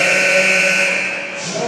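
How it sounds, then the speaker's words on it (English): A basketball shot clock buzzer sounds loud and close at a game as time expires, one sustained harsh electronic tone lasting over a second before fading slightly. "And that's a buzzer, no good."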